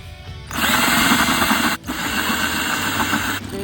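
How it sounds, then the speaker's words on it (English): A power drill bores holes into planters with a loud, steady whine that starts after a brief pause, stops for a moment, then runs again before cutting off near the end. "I think I'm all set to drill."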